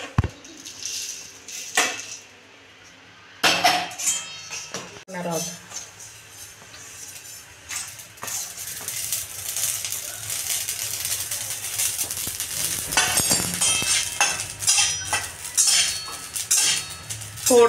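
Utensil scraping and clinking against a pan while ingredients are roasted to a reddish colour for a Marathi-style mutton vadi, with irregular metallic taps and rattles through the clip and some talking in places.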